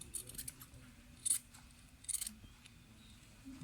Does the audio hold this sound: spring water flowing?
no